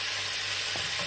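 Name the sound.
kidney frying in a pan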